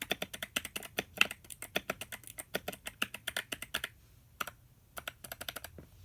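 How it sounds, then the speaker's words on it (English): Typing on an 8BitDo retro mechanical keyboard: quick bursts of crisp, close key clacks with a brief pause before another flurry of keystrokes, no voices. "So we'll open up Notepad on here and a Notepad type."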